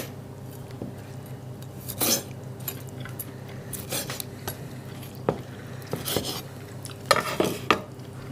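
A knife and fork work at a cooked Wagyu steak on a plate. Scattered metallic scrapes and clinks land at irregular intervals over a low steady background hum, and nobody speaks.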